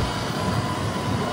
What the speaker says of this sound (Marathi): ते काय ट्रेन